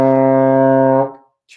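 A single sustained trombone tone on C, full and steady for about a second before it cuts off.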